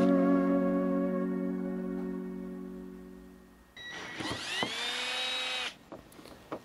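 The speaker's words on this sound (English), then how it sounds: "Drill both caps as near as possible to the center in both caps." A power drill whines, its pitch steady then winding down, followed by a louder burst as the bit bites into a PVC cap, rising in pitch before stopping abruptly.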